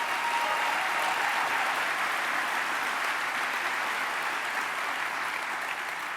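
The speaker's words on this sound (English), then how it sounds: "That's right, give them a round of applause" Steady, full applause from a large audience at the 2013 Western Conservative Summit, an even roar of clapping sustained for six seconds without a break.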